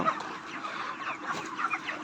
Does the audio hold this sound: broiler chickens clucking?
yes